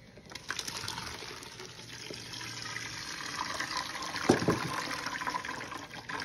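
Blended coconut liquid being strained, poured and trickling steadily through a strainer into a container, a close, continuous watery pour with a brief splashy burst near the end.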